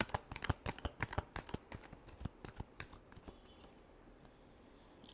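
Tarot cards being shuffled during a reading, a quick series of crisp, close riffling clicks that thin out and grow quieter toward the end, with no voices.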